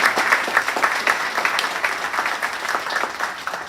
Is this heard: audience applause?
yes